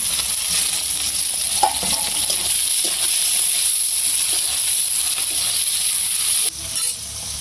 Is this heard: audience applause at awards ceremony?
no